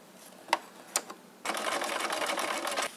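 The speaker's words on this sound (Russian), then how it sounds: "Проложили строчку, отгибаем этот кармашек и прокладываем строчку здесь." A sewing machine stitches a leather wallet pocket: a few isolated clicks as the work is positioned, then a close, fast, even run of stitching that continues for about a second and a half before stopping.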